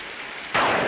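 Heavy rain pours in a scene from the 1964 Western film Rio Conchos, a dense hiss that jumps suddenly louder halfway through and stays steady without voices.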